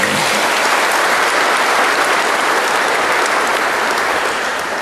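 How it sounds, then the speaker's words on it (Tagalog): Congregation applauding during a Simbang Gabi Christmas novena Mass, a steady, dense wash of many hands clapping at close range throughout, with no talk over it. "Mas masayang palakpak para sa Panginoon."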